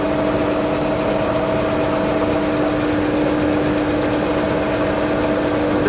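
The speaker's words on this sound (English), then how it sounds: "I'm going to walk the unloading auger, the sweep auger." A grain bin sweep auger runs continuously with a steady mechanical drone and a constant tonal hum, loud and close, with no pauses or voices over it.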